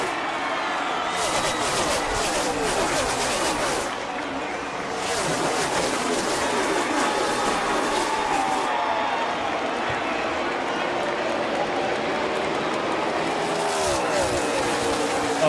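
A NASCAR crowd of about 60,000 roars over 43 race car engines at Homestead-Miami Speedway, a dense, loud, continuous wash of cheering and engine noise with broadcast commentary talk running over it.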